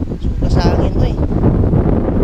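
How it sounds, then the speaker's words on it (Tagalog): Strong gusts of wind buffet the microphone at a beach in Baliangaw, a continuous loud roar and rumble that fills the whole clip. "Lakas ng hangin guys"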